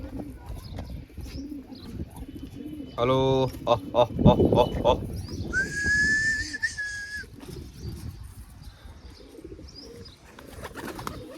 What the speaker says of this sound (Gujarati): આ કબૂતર ખોલે છે ભાઈ.